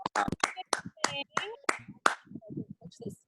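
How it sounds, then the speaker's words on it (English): A small group in a martial arts leadership class claps for a student named Emily, a quick burst of sharp, close hand claps that tapers into a few softer scattered claps. "Everyone clap for her."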